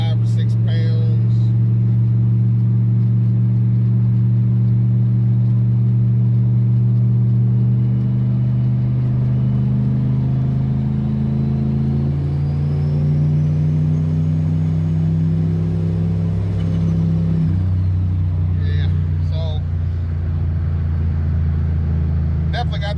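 A turbocharged Chevy OBS truck engine pulls hard under boost, its loud droning note climbing steadily in pitch for about twenty seconds before shifting gear and settling lower, with a slight stutter as boost reaches five or six pounds. Someone talks over it.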